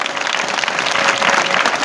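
A crowd at a mass Hanuman Chalisa gathering in Kalegaon claps together in dense, continuous applause, loud and close, filling the short moment without pause.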